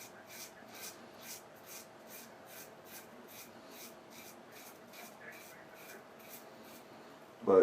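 An Artist Club style single-edge razor cuts through whiskers in a run of about fifteen short, evenly paced scraping strokes, close and fairly quiet, with a brief louder knock at the end.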